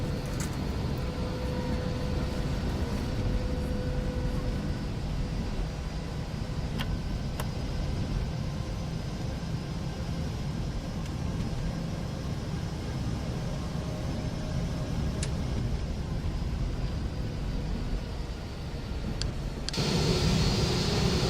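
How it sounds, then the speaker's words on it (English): A steady, even drone of an aircraft auxiliary power unit running in the X-Plane 11 flight simulator, a constant broadband hum with a faint whine throughout and a slight change near the end. "APU on."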